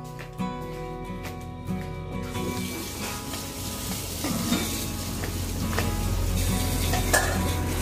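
A vegetable fry sizzles in a pan on a home stove, steady crackling frying with stirring and occasional clinks of utensils against the pan, close and moderately loud with no talking.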